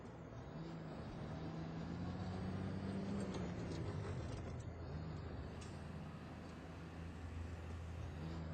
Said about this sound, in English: the traffic sounds on this map are pretty awesome.